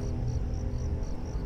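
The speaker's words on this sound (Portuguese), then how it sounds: "Eu tô ouvindo grilo." Steady cricket chirps in the video game Five Nights at Freddy's 4 pulse in a regular rhythm over a low background hum, with no one talking.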